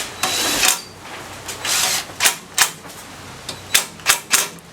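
A small 1/4 inch cordless impact screwdriver, low torque, drives number 2 Phillips screws on an older Craftsman snowblower, giving several short rattling bursts in quick succession, close and fairly loud with brief pauses between.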